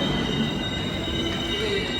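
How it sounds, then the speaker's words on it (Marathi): The Konkan Kanya train pulls into a station with steady, high-pitched metallic squeal from its wheels over a continuous low rumble of rolling cars, close and loud throughout. "फायनली आपली ट्रेन आली आहे"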